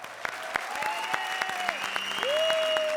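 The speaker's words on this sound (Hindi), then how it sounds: "तालियां।" Studio audience applause at a Hindi comedy show, Comedy Circus ke Mahasangram: a steady, fairly loud wash of clapping lasting the whole moment, with gliding tonal sound-effect swoops laid over it.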